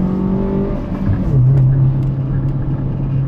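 Small Subaru R2 4WD car engine climbing a mountain pass road, its note holding steady then shifting to a lower sustained drone as it pulls, heard close from inside the cabin with no talking.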